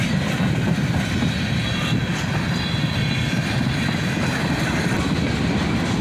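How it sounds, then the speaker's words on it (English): Freight train rolling through a grade crossing near the end of its consist, a loud continuous rumble and rattle of wagons passing close by with steady wheel clatter and a faint high squeal. "as the end of the train approaches"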